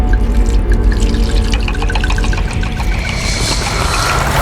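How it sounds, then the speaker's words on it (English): Liquid poured into wine in a television drama scene, a light trickling and dripping over a constant dense background sound, moderately loud with no talk. "Did she pour something else into the wine?"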